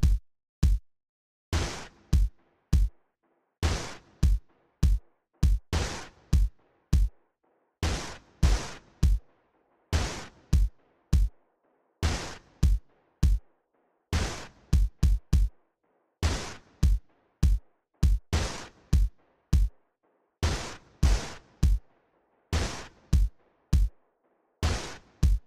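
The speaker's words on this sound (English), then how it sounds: "that is when the drum layer starts to kick in." Percussive drum layer from the Receiver game soundtrack, a dystopian score, with sharp punchy hits in a driving, irregular 7/8 pattern, loud and alone with faint sustained tones beneath.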